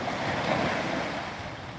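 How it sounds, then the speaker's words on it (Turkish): Sea waves wash ashore at sunset in Dikili, a soft, steady close-up surf rush mixed with light wind, with no talking. "o yüzden de ben de sustum denizi dinleyin diye"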